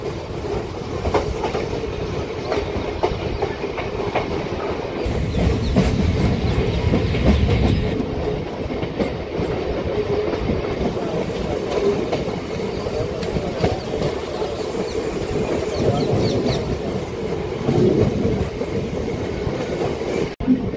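A MEMU local train running between Vijayawada and Machilipatnam, heard from on board as a loud, steady rumble with rhythmic wheel clatter that keeps going throughout.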